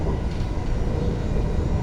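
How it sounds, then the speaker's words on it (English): A Greater Anglia passenger train runs along the rails at speed, giving a steady low rumble and rolling rail noise heard from inside the carriage. "It's a train just going along at around 100 and somewhere between"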